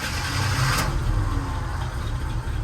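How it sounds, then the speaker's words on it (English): A 1978 Jeep Cherokee engine runs with a steady, rough low rumble close by, with a brief sharp spike early on that fits a misfire, and no talking over it. "let's start it up and you'll hear that misfire"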